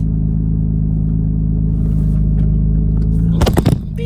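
Acura NSX in track mode doing a launch-control start: a steady low engine rumble held against the brake for several seconds, then a sudden loud surge of revving as the car launches near the end.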